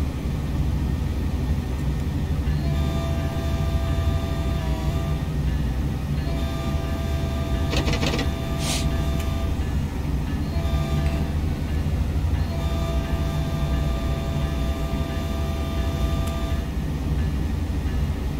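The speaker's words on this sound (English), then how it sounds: "Listening to the noise that the train makes when rolling on the track." A Caltrain train in Train Sim World rolls steadily along the track with a loud, continuous rumble and rail hum, joined by faint recurring tonal chimes and a brief bright clank partway through, without speech.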